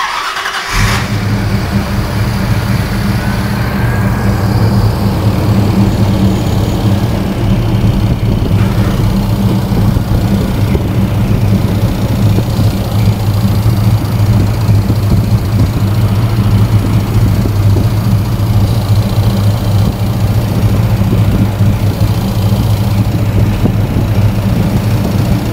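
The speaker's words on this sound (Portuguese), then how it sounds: "Vamos funcionar o motor, então." An old car engine starts up and settles into a loud, steady idle close by, a rough continuous rumble running for the length of the recording.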